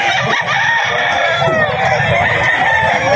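A Gilmore Hatch gamefowl rooster crowing loudly and close, with clucking from other fowl mixed in, in a busy farmyard setting.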